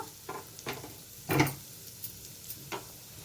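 Chickpea snack ingredients frying with salt in a pan, a quiet close sizzle punctuated by a few soft stirring scrapes and clicks, one louder stir in the middle.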